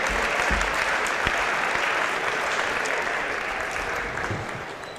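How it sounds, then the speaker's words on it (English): A crowd in a high school basketball gym applauding the game officials, steady broad clapping that holds for several seconds before gradually fading. "Please give them a round of applause"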